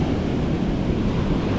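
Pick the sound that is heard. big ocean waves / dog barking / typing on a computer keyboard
big ocean waves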